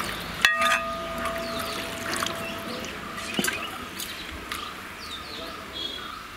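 Water poured into a pot of avoli fish curry, a brief splash and trickle up close, with a few light clinks and soft kitchen background noise.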